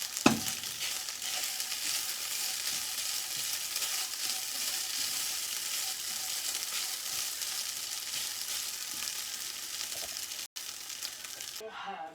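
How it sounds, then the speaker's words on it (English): Food sizzles steadily in a hot pan during Middle Eastern home cooking, a dense, constant crackling hiss that runs without a break, close and even, with faint stirring scrapes and no talking. "So you can hear it sizzling."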